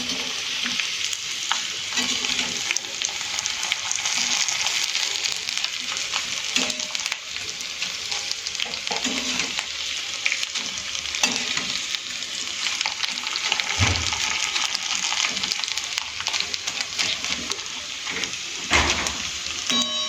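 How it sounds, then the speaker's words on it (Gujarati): Flattened rice (poha) deep-frying in hot oil, a steady, dense sizzle and crackle that persists throughout, with occasional stirring scrapes and no voices. "આપણે એમાં બધા જેટલા આની અંદર સમાય એટલા પૌવા એડ કરી અને આપણે ગરમ તેલમાં તળી દઈશું"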